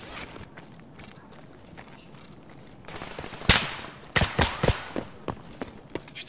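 Gunfire in the shooter game Escape from Tarkov: sharp shots crack loud and close in an irregular burst after a quieter stretch, over steady background noise.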